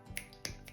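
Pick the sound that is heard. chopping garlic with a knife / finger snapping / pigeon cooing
finger snapping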